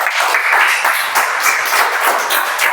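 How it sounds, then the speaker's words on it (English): An audience at a Toastmasters meeting claps steadily, a dense, even round of applause that holds at a consistent level throughout with no voices on top. "So let's give a good round of applause to Toastmaster."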